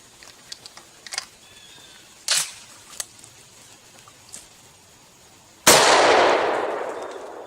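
A J.C. Higgins 12 gauge shotgun fitted with a Veri-Choke fires one loud, sharp blast near the end, its boom decaying over about two seconds, after a few quieter clicks and clanks of handling.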